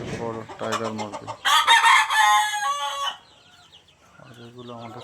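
Large tiger chickens on a small-scale farm cluck in short, harmonic bursts, then one bird crows loudly for a long, drawn-out call before softer clucking resumes nearby.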